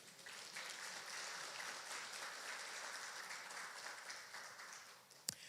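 A church congregation applauding, a steady wash of many hands clapping at a distance, fairly faint, ending with one sharp knock.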